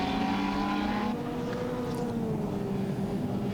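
A big Holden 308 V8 heritage touring car winds up at The Bend circuit, a loud, steady engine drone with rising, shifting pitch. Other race cars blend in behind it.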